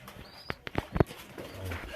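Domestic pigeons on a breeding farm, a few soft coos and wingy rustles close by, with a faint voice murmuring quietly in the background.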